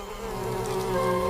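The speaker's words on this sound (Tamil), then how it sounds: "இங்க தேனி கூட இருக்கா?" Bees pouring out of a giant hive near a pitted patch of ground buzz steadily and loudly nearby, a dense continuous drone that swells slightly toward the end, with no voices.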